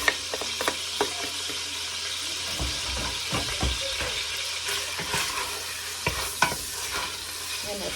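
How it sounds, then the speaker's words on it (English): Onion cooking in a pot with fish gives a soft bed of sizzle punctuated by frequent clinks and scrapes of a utensil stirring against the pot, nearby and fairly quiet, with no talk. "So just gonna add in our onion to cook."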